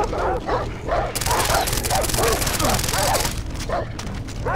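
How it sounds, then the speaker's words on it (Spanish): Several dogs in a Far Cry 3 video game pack bark together in rapid, overlapping bursts, loud and close, with yips and whimpers mixed into the noisy din. "Hostia, una puta jauría de perros."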